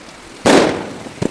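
Firecrackers bursting at a midnight celebration: one loud close bang that decays quickly, followed a moment later by a smaller pop, heard over a faint background.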